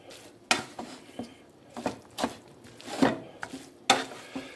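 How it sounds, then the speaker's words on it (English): Rice being mixed into fried cabbage in a single pot, a few irregular scrapes and clunks of a spoon against the pot with soft sizzling underneath, close by and without talking. "all we're going to do is just mix the rice in with this."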